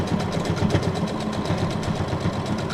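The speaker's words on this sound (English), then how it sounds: "computerized sewing machine" A Brother SQ9185 computerized sewing machine runs steadily up close, its needle chattering in a fast, even mechanical rhythm with a low motor hum beneath.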